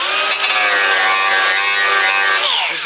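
A sanding block scrubs paint off a Ford Transit van panel with a loud, steady, whining grind that runs without a break and tapers off at the end.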